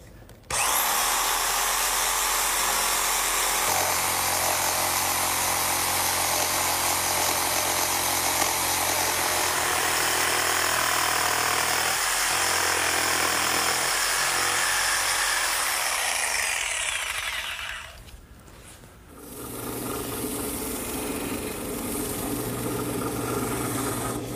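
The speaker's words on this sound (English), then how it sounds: "this portable jigsaw will do just fine" A portable jigsaw saws steadily along a traced curve in a wood workpiece, a loud continuous buzzing whine up close that runs unbroken for most of the time, then cuts out briefly before a quieter motor hum resumes.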